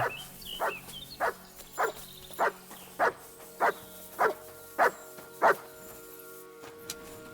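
In Kingdom Come: Deliverance II, a dog barks about nine times in an even, steady rhythm, each bark sharp and mid-distance over a quiet background hum.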